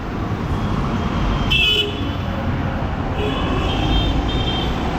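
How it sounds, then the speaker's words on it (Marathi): Buses and other vehicles pull out of the Panvel bus stop amid steady road noise, with a couple of horn toots standing out, one brief and another longer and held, over a continuous traffic rumble. "बघा हे काय लगातार गाड्या निघतच आहेत इथून"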